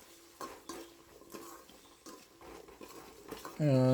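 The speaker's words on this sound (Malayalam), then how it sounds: "ഇതെല്ലാം കൂടി ഒന്ന് നന്നായിട്ടൊന്ന് ഇളക്കി കൊടുക്കാം." Shallots, green chillies and salt stirred in a pan for a mushroom curry: quiet, scattered scrapes and clinks of a spoon over a faint sizzle, with a voice rising briefly at the very end.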